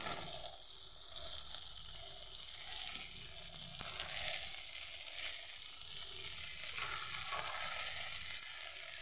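Ground spice paste of tomato, ginger-garlic and dried chilli frying with okra in a pan, a steady, dense sizzle that runs unbroken throughout, with faint stirring scrapes and no voices.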